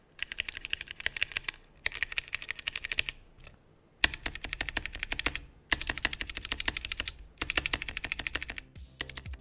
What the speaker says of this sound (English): The result of this is an annoying additional clack when you type,